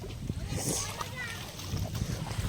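Water splashing as someone wades across a flooded river in Wankaner during rain, wearing boots; continuous sloshing and splatter close by, under constant talking voices.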